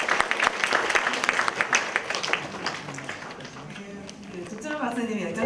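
An audience applauds after a special lecture on the climate crisis. Brisk, close clapping fills the first half and fades, then a voice speaks over the last scattered claps.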